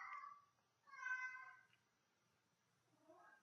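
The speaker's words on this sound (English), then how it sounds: "My very verbal cat." A talkative house cat gives three meows, two short and clear with a longer drawn-out one between them, close and fairly quiet with no other sound.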